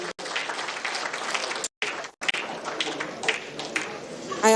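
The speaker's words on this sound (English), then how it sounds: "Round of applause for him." An audience at a Nigerian live news event gives a sustained round of clapping, with a couple of brief dropouts, as a guest is welcomed.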